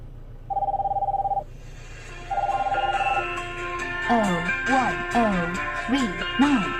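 An incoming-call ringtone plays through a car's speakers via a Bluetooth AUX adapter, two buzzing rings separated by a pause, followed by a melodic tune as someone talks over it.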